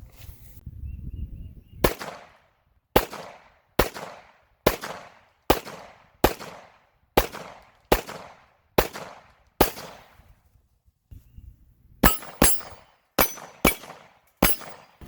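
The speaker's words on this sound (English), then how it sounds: "So I'm going to shoot a group here at about 7 yards" Glock 17 Gen 4 pistol fired at a target about 7 yards away: about ten sharp, loud shots at a steady pace, then a quicker burst of five more after a short pause, close and with no talk.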